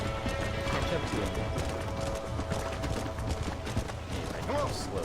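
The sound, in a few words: horse hooves galloping in video game Red Dead Redemption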